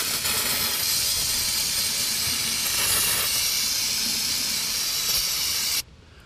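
Brake cleaner sprays from an aerosol onto the clutch slave cylinder bleeder of a 2001 Subaru Forester, a loud, close, steady hiss lasting several seconds before cutting off abruptly.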